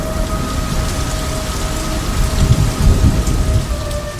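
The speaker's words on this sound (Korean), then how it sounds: "이 눈물은 비가 되어 땅 위에 떨어졌습니다." Loud, dense rain pours down with rolling thunder rumbling underneath and swelling midway through. Faint steady tones hum in the background, and no one speaks.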